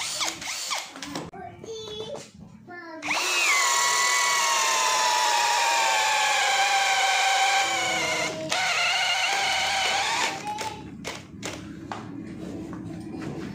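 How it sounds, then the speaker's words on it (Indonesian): A power drill boring with a 20 mm auger bit in high-speed drilling mode whines loudly at a steady pitch for several seconds, then winds down; mechanical clicks and rattles come before and after. "saya akan menggunakan mata bor auger 20 mm"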